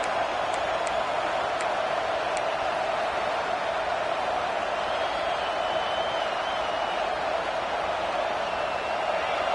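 A college football stadium crowd in a Florida versus Auburn game roars steadily on a third down, a dense wash of distant cheering that holds evenly throughout with a few faint whistles.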